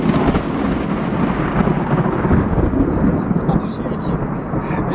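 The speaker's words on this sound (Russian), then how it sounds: "разряд молнии попал" Thunder from a lightning strike in a forest during a downpour rolls as a loud, sustained rumble lasting the whole stretch, with rain noise and voices underneath.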